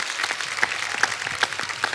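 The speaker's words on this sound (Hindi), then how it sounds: "मैं चाहूंगा कि तमाम लोगों की तरफ से एक जोरदार तालियां बिल्कुल ये वरुण और उनकी टीम के लिए।" A studio audience at The Kapil Sharma Show claps hard and steadily, with a few louder bursts standing out from the sustained applause.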